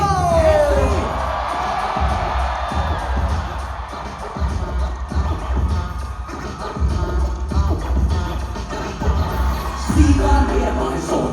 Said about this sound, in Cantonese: 俾啲掌聲！